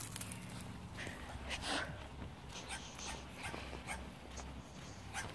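Toy sheltie puppies play with scattered faint yips and soft whimpers over scuffling paws and low room noise.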